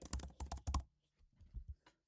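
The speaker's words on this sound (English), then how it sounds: "I am just typing in random stuff, so you don't copy and paste what I do." Fingers tap out a quick burst of keystrokes on a computer keyboard, close and clicky, then a pause before a softer, sparser run of keys.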